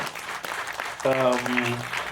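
Audience applause at a Tamil event with a singer and lyricist, a steady clatter of clapping with a tonal musical or vocal sound rising over it halfway through.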